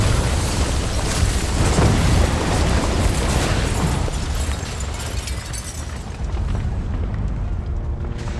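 An Osprey aircraft crashes and explodes in the game Devil's Third, a loud, dense, roaring blast with crackling debris that fills the whole stretch and slowly thins toward the end.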